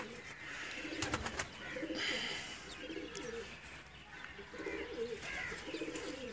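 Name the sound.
Ferozpuri pigeon cooing while held in hand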